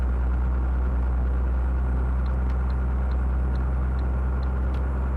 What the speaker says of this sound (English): we're trying to figure out why the stream is hearing distorted audio on the truck engine